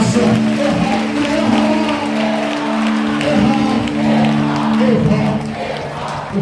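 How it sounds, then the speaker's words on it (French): A crowd at a three-day Christian evangelization gathering cheers and shouts in acclamation, a loud, sustained mass of voices with steady tonal chanting running through it from start to finish. "Acclamation."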